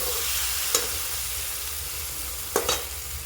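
Spices sautéing in oil in a wok, a steady low sizzle running throughout with a few sharp clinks of a spoon scraping the sides, heard alone with no voices.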